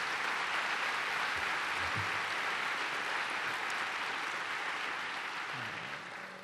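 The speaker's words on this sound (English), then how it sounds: "give Oscar a big round of applause for the great job that he did" Audience applause at an event for President Obama's greeting to Estonia, a dense, sustained clapping from a large crowd that holds steady and then begins to fade at the end.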